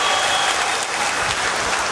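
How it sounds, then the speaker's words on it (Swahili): Vigorous crowd applause for GSM at a Yanga club gathering, a loud, thick, unbroken roar of clapping hands filling the whole stretch. "Tupige makofi mengi kwa GSM."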